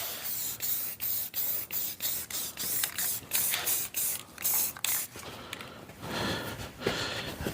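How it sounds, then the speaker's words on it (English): A spray can is painting the long stick of a welded log splitter attachment in short repeated bursts, each a close hissing spray with brief gaps between, and a longer, softer hiss at the end. "I'm painting the whole stick so it could kind of match"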